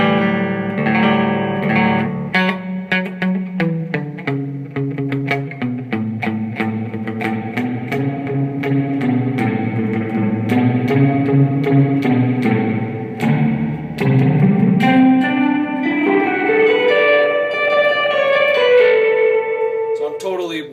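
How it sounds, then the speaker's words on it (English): Electric guitar played through an Ekdahl Moisturizer reverb pedal, sustained chords and picked notes starting dry and then washing into a growing, lush reverb tail, loud and continuous throughout. "Now I'm going to slowly sweep in more reverb."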